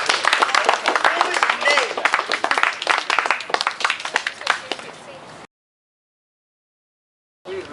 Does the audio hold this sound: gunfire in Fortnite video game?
no